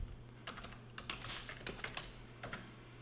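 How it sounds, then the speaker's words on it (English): Fingers clatter on a computer keyboard in quick, uneven bursts of soft close keystrokes over a faint steady hum. "I can just start typing in what do I want to include."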